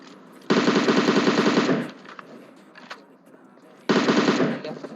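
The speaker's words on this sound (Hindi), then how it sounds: "और कोई तो यहाँ पे MK14 चला रहा है" Two long automatic bursts of MK14 rifle fire in the mobile battle-royale game PUBG Mobile, each a loud, rapid rattle of shots lasting over a second, separated by a quieter gap with faint scattered noises.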